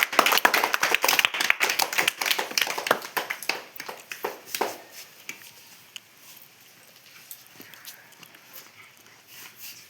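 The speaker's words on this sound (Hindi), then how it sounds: "ताली मारो" Hands clapping during a group activity session, a rapid burst of many close claps for about five seconds that then thins to a few scattered, fainter claps and taps.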